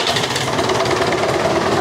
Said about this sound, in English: I need to have the tractor running, so I'm gonna crank it up.